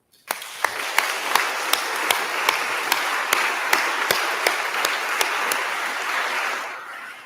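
Congregation applauding at a church installation ceremony in Sumvitg, a steady wash of many hands with a few sharper individual claps standing out, sustained for several seconds before stopping abruptly.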